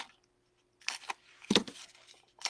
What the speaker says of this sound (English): I am going to use my scissors and continue